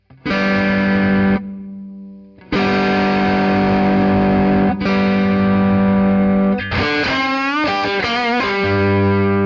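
Electric guitar through an Ibanez Tube Screamer overdrive pedal plays sustained, distorted chords, ringing out loudly, pausing briefly, then continuing before a quicker bent-note phrase at the end.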